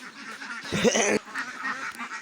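A few loud, nasal duck-like honks and quacks sound close by, one burst louder than the rest, with softer calls continuing around it.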